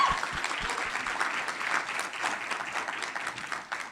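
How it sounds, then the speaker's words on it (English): An audience at a student venture competition gives steady applause of moderate loudness, a dense wash of clapping that continues throughout. "Please give her a round of applause."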